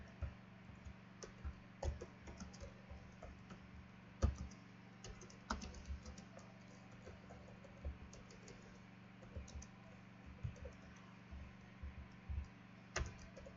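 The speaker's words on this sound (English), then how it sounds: "I'm going to be typing." Steady typing on a computer keyboard during a live Python programming class, quick irregular key clicks and occasional harder taps over a low electrical hum, close and quiet with no one speaking.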